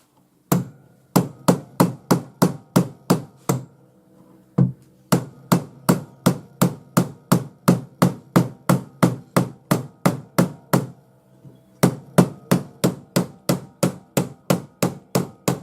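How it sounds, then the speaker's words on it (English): Rawhide hammer striking a metal bangle held over a ring mandrel in a horizontal vise, in three bursts of steady, evenly spaced blows, close and loud, with brief pauses between runs. "use my rawhide hammer to hammer it open"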